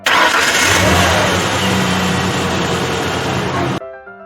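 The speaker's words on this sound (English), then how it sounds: "This is the truck sound." A heavy engine roars loudly and continuously, a deep rumbling drone that runs steady for nearly four seconds, then drops away abruptly.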